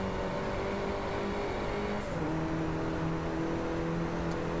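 An Audi's engine in the racing game Driveclub holds a steady, loud drone with sustained tonal harmonics. The pitch shifts once midway through, as at a gear change, and no voices are heard.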